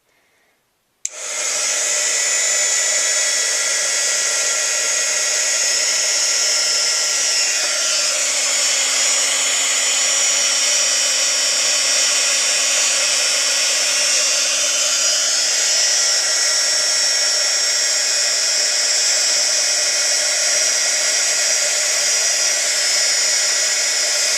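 An embossing heat tool runs steadily over embossing powder on a paper craft, giving a loud, constant high-pitched blowing whine like a hair dryer that starts abruptly and continues unbroken for over twenty seconds.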